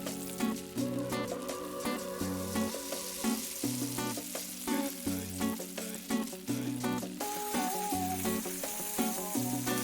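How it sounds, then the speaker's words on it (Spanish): Chicken breast sizzles and fries in butter in a pan, a steady crackling hiss throughout, under a looping music track with a regular beat. "en una sartén o plancha agregaremos unas barritas de mantequilla y freiremos"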